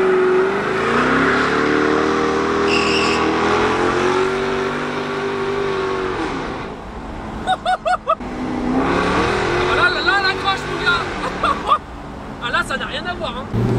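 A supercharged 550 hp Jaguar accelerates hard, its engine note climbing steadily and loudly for several seconds before easing off, with people talking over the noise.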